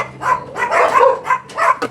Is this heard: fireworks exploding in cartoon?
no